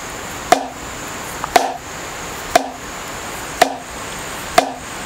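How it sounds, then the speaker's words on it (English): Drumsticks strike a drum head with a throw-and-catch motion, five single hits about a second apart, each a crisp close tap with a short ringing tone that decays over low steady background hiss. "When you hit, you want to think about a throw and a catch sort of movement"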